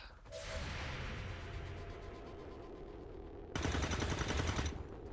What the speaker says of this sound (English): at least we got a pretty nice 4 damage shot on that sectoid